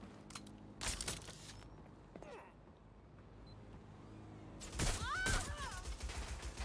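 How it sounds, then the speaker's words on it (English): Bursts of explosions and gunfire in the Watch Dogs Legion video game, with a loud blast cluster near the start and another heavy volley toward the end over a steady background rumble. "What are these explosions?"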